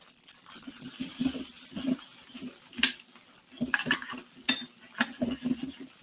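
Shrimp and sliced celery stir-frying in a pan, a steady sizzle with repeated scraping and clinking of a utensil stirring against the metal, close by and moderately loud.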